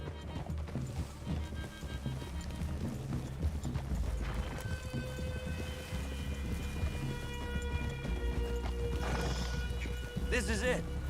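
Horse hooves clip-clop on the ground in the video game Red Dead Redemption 2, with a steady trotting rhythm of moderate loudness. Game music and ambience play underneath, and a horse whinnies near the end.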